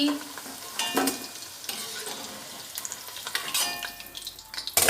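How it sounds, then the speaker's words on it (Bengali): Mixed vegetables for niramish sukto, including potatoes and carrots, fry lightly in a pan. A steady close sizzle runs throughout with stirring clatter and scrapes, building to a louder burst at the end. No one speaks. "এভাবে আমি সব সবজিগুলো হালকা হালকা করে ভেজে নেব"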